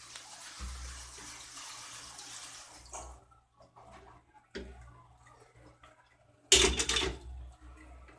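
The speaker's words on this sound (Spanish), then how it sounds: "la pasamos ahora por el colador" Wet paper pulp is strained through a kitchen colander in a few separate bursts of splashing and dripping water, with quiet pauses between them and the loudest slosh near the end.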